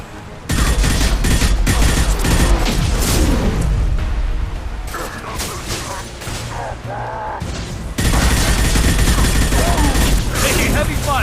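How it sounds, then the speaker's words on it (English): Sustained weapon fire from a firefight in the video game Mass Effect 2, dense bursts of shots and explosive booms filling the scene loudly from start to finish, easing briefly midway, with a voice speaking over the combat. "Taking heavy fire."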